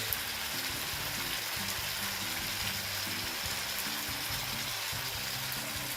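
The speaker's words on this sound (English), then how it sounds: "So I am gonna add some ghee to this" Ghee sizzling in a pan of Bengali kofta curry, a dense, even crackle like light rain held steady throughout, close and moderately quiet, with no voices.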